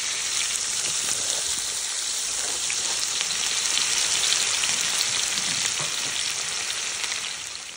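Onions sizzle and fry steadily in a pot of hot oil for a Réunion-style dish, a dense, even crackle with faint stirring and no talking.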